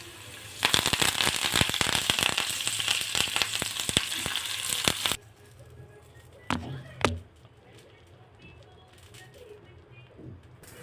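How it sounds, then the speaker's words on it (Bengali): Curry leaves hit hot oil for Odisha-style dahi baingan, setting off a loud, dense crackling sizzle that runs for about five seconds and then stops abruptly, followed by a few soft kitchen knocks. "এবার দিয়ে দিলাম কারি পাতা।"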